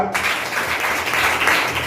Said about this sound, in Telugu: కొడతారా చప్పట్లో?